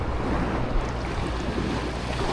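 Surf washes onto a fine white-sand beach on Boracay Island as a steady, soft roar mixed with wind buffeting the microphone, and no one speaks.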